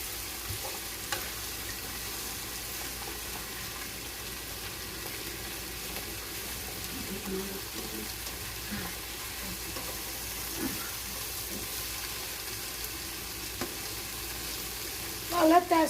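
Eggplant and basil leaves stir-frying in a pan, a soft steady sizzle with occasional light stirring clinks, quiet and continuous, plus a brief louder knock at the end.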